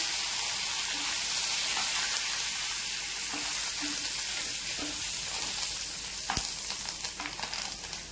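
Curry leaves, dried red chillies and turmeric fry in oil with a loud, dense, continuous sizzle, joined by a few stirring knocks near the end.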